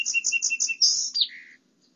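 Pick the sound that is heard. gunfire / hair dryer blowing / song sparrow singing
song sparrow singing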